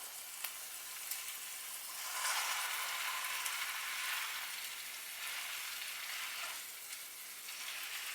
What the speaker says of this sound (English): once your onion's sizzling, get your burger patty